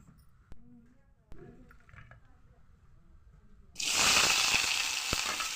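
Onion, dried red chilli and spice masala frying in a spoon of oil for avarekalu sambar, starting abruptly as a loud, steady hiss after a few quiet seconds with faint kitchen clatter.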